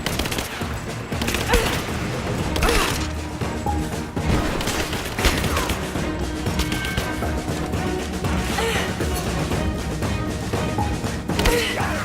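Dense, sustained gunfire and crashing impacts fill a hectic firefight in the video game Rise of the Tomb Raider, with shots and smashes overlapping loudly throughout and brief talk in between.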